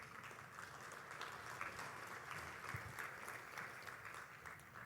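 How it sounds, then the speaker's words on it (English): Audience at an economic outlook keynote giving a round of applause, steady clapping that continues evenly, moderately distant. "I think we need to give Joel a round of applause"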